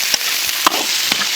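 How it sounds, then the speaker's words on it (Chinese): Lamb brain meat stir-fries in a wok over oil with scallion, ginger, garlic, dried chilies and Sichuan peppercorns, giving a steady close sizzling hiss broken by a few sharp spatula clacks. "羊脑肉往起煸一煸"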